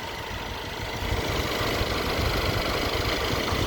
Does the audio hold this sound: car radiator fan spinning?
yes